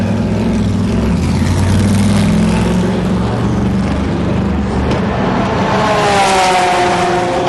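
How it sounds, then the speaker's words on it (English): A Corvette race car goes by on a racing circuit, its deep, rumbling low engine note loud and continuous, rising into a higher whine near the end of the pass. "here goes the Corvette."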